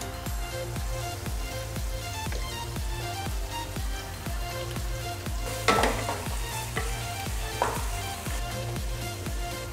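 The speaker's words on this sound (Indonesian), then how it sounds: "tunggu Aunty panaskan kuali untuk goreng telur ya." Egg frying in a heated wok, a steady close sizzle with a regular stirring or scraping rhythm throughout and a couple of louder bursts of crackle midway, no talk.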